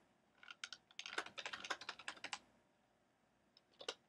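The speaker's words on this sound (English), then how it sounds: "So I'll go ahead and type in our subheading" Rapid keystrokes on a computer keyboard as a subheading is typed, a quick burst of clicks followed by a pause and a few final taps, close and fairly quiet with no voices.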